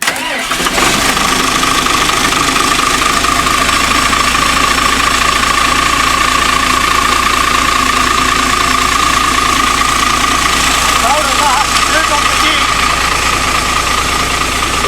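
A car with a fuel issue cranks and starts in the snow, then settles into a loud, steady, slightly rough idle close by, while people talk over it.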